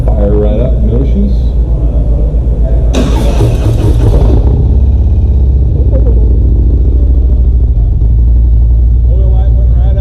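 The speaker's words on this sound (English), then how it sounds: "We're getting ready to start the bike up." A Harley-Davidson Road Glide with a fresh Stage 2 engine upgrade cranks and fires up into a loud, deep, rumbling idle, with a burst of brighter mechanical noise partway through and a voice speaking over it.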